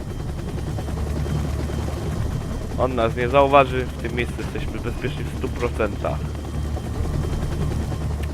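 A hovering helicopter in the stealth video game Splinter Cell Double Agent, a steady low droning rotor hum throughout, with someone speaking over it.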